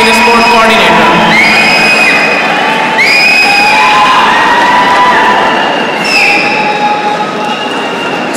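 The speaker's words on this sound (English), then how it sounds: "So please a big round of applause for the winner team, Department of Mathematics." A crowd at a university sports gala closing ceremony cheers and shouts for the winning Department of Mathematics team. The roar is loud and dense and holds steady throughout, with higher whoops rising over it.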